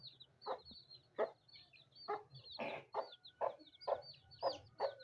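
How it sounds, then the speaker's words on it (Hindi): A hen clucks repeatedly in short, close bursts with a steady rhythm, some calls louder and more urgent, over a low background hum. "ये देखो बदतमीज मुर्गी।"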